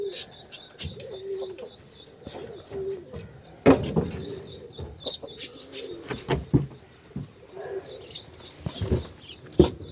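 Caged pigeons coo and rustle, with sudden bursts of wing flapping and scuffling, faint chirps from young birds, and occasional sharp knocks against the cage, close and intermittent.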